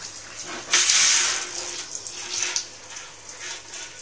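Warm water runs steadily from a tap or shower while a cat is bathed, with a louder splashing gush near the start that settles into a softer flow, with no talk.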